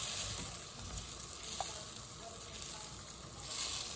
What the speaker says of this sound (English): Now I'm sauteing these onions and garlic on about on low.